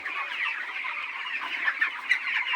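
Many chickens clucking together nearby on a poultry farm, a continuous overlapping chorus of soft cackles with a few sharper calls standing out.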